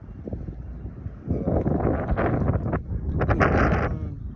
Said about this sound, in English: I'm sorry if you hear the wind in the background.